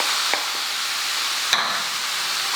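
Beef sirloin going into a pan beside mushrooms and onions for beef stroganoff, a steady loud sizzle filling the whole stretch, broken by two brief knocks of a utensil against the pan.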